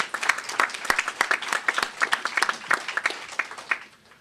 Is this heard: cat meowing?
no